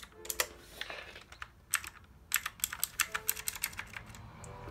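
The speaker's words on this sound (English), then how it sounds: "so let's get into trying the keys. Well, that's really clicky." Typing on a LEOBOG K21 budget mechanical keyboard with clicky keys: crisp, close clicks in irregular bursts and quick runs of keystrokes, with no other sound over them.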